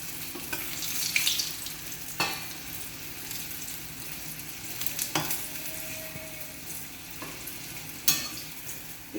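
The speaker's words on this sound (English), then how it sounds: "the oil is already hot, so I'll put in the potatoes into it" Potatoes frying in hot oil for an Indian festival offering meal, a steady close sizzle with occasional stirring clatters and spatula taps throughout, no voices.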